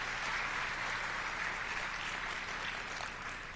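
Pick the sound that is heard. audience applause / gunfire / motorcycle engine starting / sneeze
audience applause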